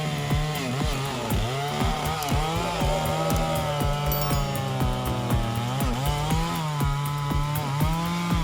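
A big chainsaw bites through a centuries-old oak tree. The engine gives a loud, continuous, harsh buzz with rising and falling pitch as the chain works through the wood, close up and alone.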